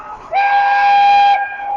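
A steam engine's whistle blows one loud, steady blast of about a second at a steam rally, as the engine gets ready to pull away, with rumbling underneath before and after.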